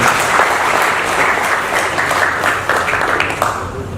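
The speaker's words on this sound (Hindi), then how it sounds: "एक बार सदन प्रीता हरीश जी के लिए जोरदार तालियां दें।" Loud, dense applause from the audience at a Hindi book launch, a continuous crowd of clapping hands that swells slightly toward the end, close and filling the room.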